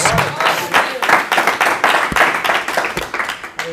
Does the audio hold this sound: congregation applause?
yes